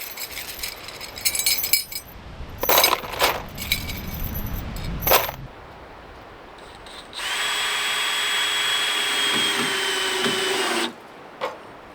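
Spilled screws being gathered up during shed framing work, giving bursts of metallic clinks and jangles in the first half, followed by a long steady whir of a power drill running alone for several seconds.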